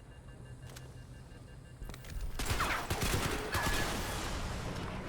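Turret fire in Crysis 3 starts quietly and swells into dense, rapid bursts of gunfire with mechanical clatter, loud and sustained over the last few seconds.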